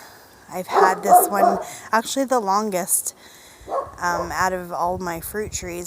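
Dogs bark repeatedly in short, close bursts outdoors among backyard fruit trees, overlapping a person talking nearby.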